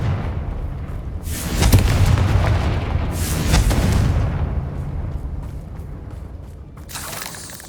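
Fiery Confringo spell blasts in the video game Hogwarts Legacy, several deep booming explosions with rumbling tails spread over a few seconds, loud and close, with no talk over them.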